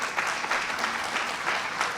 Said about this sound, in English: So give yourselves a round of applause for showing up tonight.